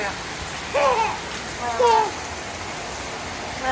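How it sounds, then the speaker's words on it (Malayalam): Rain falls with a steady, moderate hiss outdoors, while a few short voiced sounds rise over it. "ഇത്ര നേരം മഴ മാറിയതായിരുന്നു വീണ്ടും മഴ"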